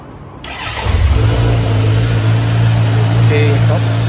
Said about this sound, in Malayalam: അതിൻ്റെ എക്സോസ് നോട്ട് ഞാൻ എന്തായാലും കേൾപ്പിച്ചുതരാം.